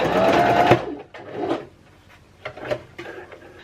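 A sewing machine stitches a zigzag while mending clothes, with a loud continuous run of stitching at the start, followed by quieter short bursts of fabric handling and brief machine movements.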